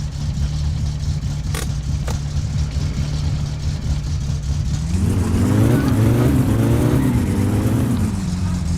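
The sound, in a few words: car engine revving in My Summer Car video game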